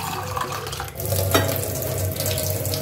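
Water runs steadily from a tap into bowls to soak almonds, a continuous close splashing wash with a faint hiss, heard alone without speech.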